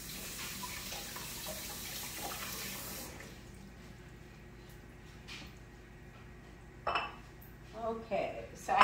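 Kitchen tap water runs steadily for about three seconds while a bowl is filled for oatmeal, then shuts off, leaving a quiet room with faint clinks and handling noises.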